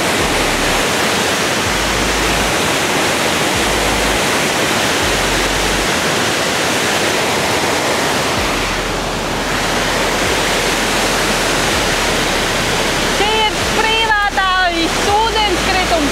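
A waterfall in Ubud, Bali roars steadily and loudly throughout, a dense continuous rush of falling water with bird chirps appearing near the end.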